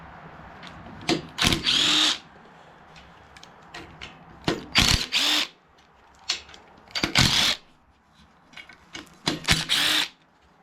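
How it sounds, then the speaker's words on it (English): Mowing deck of a 2006 Craftsman LT3000 riding mower gives off bursts of mechanical grinding and rattling, about five loud spells of a second or so each, separated by quieter stretches of low running noise, close to the mic. "Hear that? That's coming from the mowing deck."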